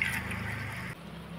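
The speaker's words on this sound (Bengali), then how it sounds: "আর 1 বাটি জল আমি দিয়ে দিচ্ছি।" A bowl of water pours into a pot of hilsa fish curry with raw banana and potatoes, a faint, close trickle that stops abruptly.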